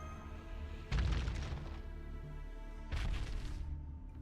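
Two heavy low thuds in a Fate/Grand Order pitfall-trap scene as characters drop in, the first around one second in and the second near three seconds, each a loud boomy impact over a steady game music bed.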